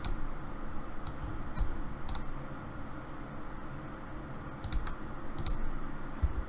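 Computer mouse clicks while a snipping tool is used, several sharp, quick, close clicks scattered over a steady low hum.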